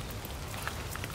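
Rain falls steadily on a Japanese garden in Tokyo, a soft, even patter of drops with a few slightly louder taps, continuous and fairly close, with no voices.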